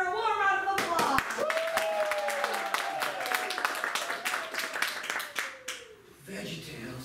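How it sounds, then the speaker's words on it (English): Audience at an improv comedy show claps in a short burst, sharp hand claps layered under a performer's speech, fading out toward the end. "Let's greet the crowd after a warm round of applause."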